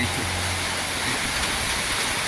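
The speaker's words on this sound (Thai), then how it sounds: "ลมด้วยครับอาแรงด้วยฝนด้วยลมด้วยอะ" Heavy rain pours down in strong gusting wind over a street-side meatball stall, a dense, steady roar of water and wind that fills the whole clip without a break.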